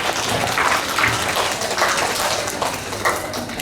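An audience at a school inter-house Hindi recitation competition claps to welcome the next participant, a steady wash of applause with a few sharper claps standing out.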